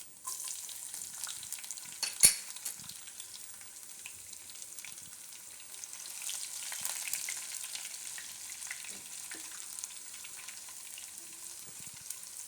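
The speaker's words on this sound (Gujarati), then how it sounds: "તેલ આપણું ગરમ થઈ ગયું છે એમાં આપણે પહેલાં જીરું નાખીશું અને લસણ નાખીશું" Cumin seeds and garlic frying in hot oil, the start of a Gujarati karela muthiya curry, produce a soft, continuous crackling sizzle with a single sharper pop, fairly quiet and steady throughout.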